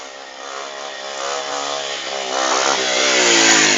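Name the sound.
motorcycle engine revving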